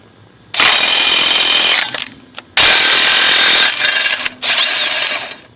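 A Kobalt 24V cordless 1/2-inch impact wrench spins lug nuts off and back onto a truck's front wheel: three loud, close, rattling hammering bursts broken by short pauses, with no talking.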